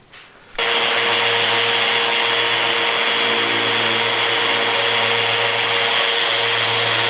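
A random orbit sander sanding wood switches on and runs loud and steady, a continuous whirring drone with a constant pitch until it stops at the end.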